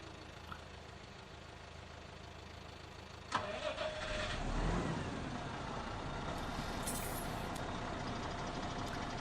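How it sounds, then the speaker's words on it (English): A farm vehicle's engine starts up in Farming Simulator 17 on PS4: a sudden crank and catch, then a steady loud idling rumble that carries on over the game's background noise. "Let's start the engine and drop those gates."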